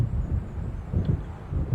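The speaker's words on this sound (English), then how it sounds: "It seems there's a storm coming." Low, rumbling thunder from an approaching storm in the game Alan Wake rolls in soft, uneven swells with a windy hiss, distant and steady, with no talking.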